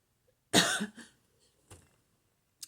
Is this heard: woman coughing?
yes